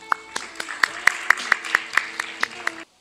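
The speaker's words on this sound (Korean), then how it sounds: "그럼 박수로 맞아주시기 바랍니다." Audience applause greets a speaker at the 2023 Future Mobility Expo. The clapping is regular and evenly paced over a tonal backdrop and lasts about three seconds before stopping abruptly.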